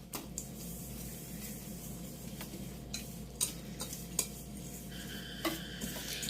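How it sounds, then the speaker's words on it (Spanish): A utensil stirs melted butter into almond cookie dough in a bowl, a steady scraping swish with scattered clinks against the dish, close and continuous with no talk. "Y ahora vamos a mezclar muy bien todos los ingredientes"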